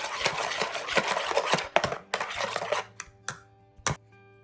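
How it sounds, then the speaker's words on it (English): Dressing with red pepper flakes whisked in a bowl gives quick clinking, tapping strokes in irregular bursts, loud at first then thinning into a few separate clicks. "we're going to whisk that together"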